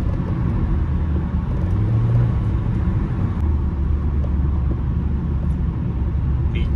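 A Toyota Corolla drives past at speed, a steady low road rumble and engine drone filling the whole stretch, close and continuous with no voices.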